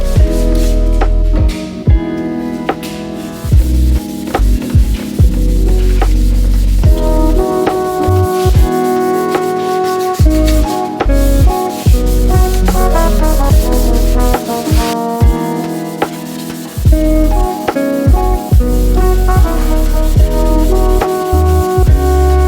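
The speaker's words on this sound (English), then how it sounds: "You're gonna wanna get the whole headlight sanded, get it all nice and smooth" A car headlight lens is hand-sanded on a BMW 335i, producing loud, close, repeated rubbing strokes in an uneven rhythm, running without pause and with no talk.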